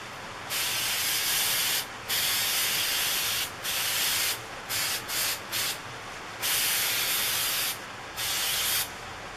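An aerosol can spraying adhesion promoter onto parts in a light coat, hissing in a series of short bursts of varying length separated by brief pauses, close and loud.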